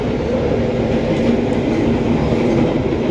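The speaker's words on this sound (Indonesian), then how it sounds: "Saatnya masuk ke dalam kereta eksekutif 4." Steady, loud rumble and rhythmic wheel clatter inside an executive carriage of the Gaya Baru Malam Selatan train running between Jogja and Jakarta, continuous and close with no voices.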